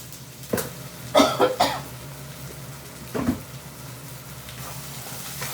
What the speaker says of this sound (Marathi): ठसका होत आहे